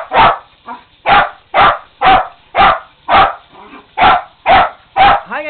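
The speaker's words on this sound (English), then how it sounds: "Dog's barking during your shower." A Lakeland Terrier barks about ten times in a quick, steady rhythm, close and loud in a bathroom, with a whine at the end.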